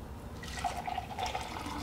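Chocolate milk pours into a glass in a steady, gentle liquid trickle with faint dripping, close and alone, about two seconds long.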